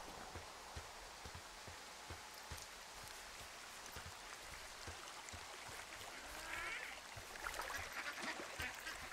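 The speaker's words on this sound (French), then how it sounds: "Alors, j'entends des canards, mais je les vois pas." Ducks quacking in the woodland world of the video game Firewatch, short calls scattered over steady rain and a flowing stream, rising slightly toward the end with no one speaking.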